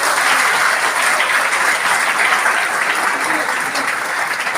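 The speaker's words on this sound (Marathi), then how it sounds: "त्यांच्यासाठी एकदा जोरदार टाळ्या झाल्या पाहिजे" Loud, dense applause from an audience honouring traffic police at a Thane city road safety campaign event, a steady unbroken wash of clapping from start to finish with no voices over it.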